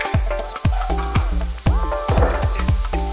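White mushrooms hitting a hot pan with garlic, a loud crackling sizzle under repeated knocks and scrapes of a utensil against the pan, close and busy throughout.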